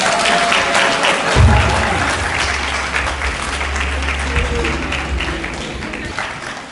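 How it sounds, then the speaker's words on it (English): Audience applause at a Central High International School graduation ceremony for the class of 2023, a steady, dense wash of clapping that carries on at full strength with a low rumble beneath it. "Please help me welcome and applaud congratulating the class of 2023"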